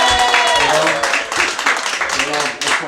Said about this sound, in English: Give a round of applause for Aaron and